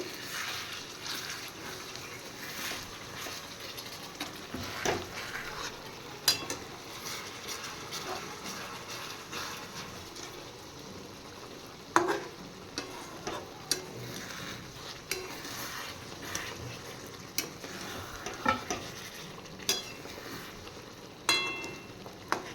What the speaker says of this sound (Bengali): সর্ষে আর কাঁচা লঙ্কা এবার একটু নেড়ে দেবো ভালো করে